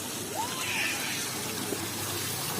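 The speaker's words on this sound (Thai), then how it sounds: "น้ำพุอ่ะมันไหลมา เสร็จปุ๊บแล้วมันก็เข้ามาในท่อนี้ต่อ แล้วก็ไหลออกไป" Water runs steadily from a fountain in a European park, a constant hiss of flow with a faint tonal trickle, continuous and moderately close throughout.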